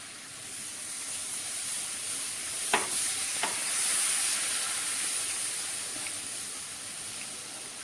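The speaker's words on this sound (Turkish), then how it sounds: "Şimdi birden sütümü koyup hemen karıştıracağım." Milk hits roasted flour in a hot pan and is stirred at once, giving a soft, steady steaming sizzle with two brief clinks of the utensil early on and no talking.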